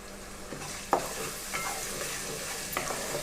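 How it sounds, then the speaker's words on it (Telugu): Ground tomato paste hits hot oil in a pan for tomato rice, a soft continuous sizzle broken by a few stirring scrapes and one sharper clink near the start. "ఇప్పుడు ఆల్రెడీ మనం గ్రైండ్ చేసి పెట్టుకున్న టమాటో పేస్ట్ అంతటినీ కూడా ఇందులోకి వేసేస్తున్నాను"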